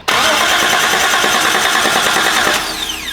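A fully built Datsun 280Z, revived as a barn find after four years sitting, runs loud and steady close to the microphone, its engine note holding even before easing slightly quieter near the end.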